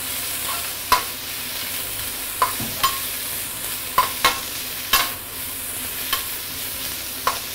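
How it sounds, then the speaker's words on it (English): Bitter gourd sautéing in a hot wok over a steady sizzle, with sharp scrapes and taps from the spatula striking the metal about once a second, close and fairly loud, no talking. "We just have to probably saute this for probably about 1 minute or so."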